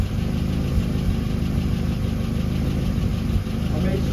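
A Mini's engine idles steadily around 2000 RPM with a continuous low rumble and faint mechanical rattle, even and unbroken throughout.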